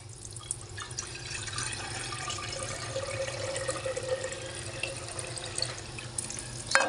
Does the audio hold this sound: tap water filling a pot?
yes